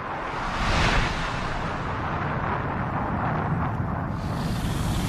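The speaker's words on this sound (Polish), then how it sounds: "Eksplozja wysłużonego gwiazdowego olbrzyma." A documentary sound effect for the explosion of a dying giant star: a deep, rumbling roar that swells within the first second, then settles into a sustained dark rumble that fades slightly toward the end.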